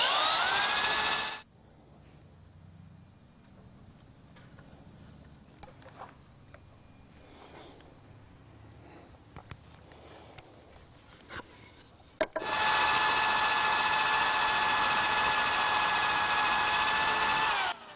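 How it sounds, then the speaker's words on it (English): A power drill with a 5/8 inch bit boring mortises in wood for rustic furniture whines loudly and steadily at the start, then goes quiet for several seconds of faint rubbing and handling noises before roaring again to the end. "drill the mortises for the lower stretchers using a 5/8 inch drill bit"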